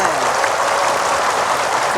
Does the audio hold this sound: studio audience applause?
yes